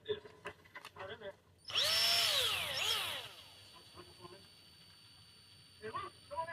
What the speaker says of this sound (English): making sure this is where you want it before drilling a whole bunch of holes in the frame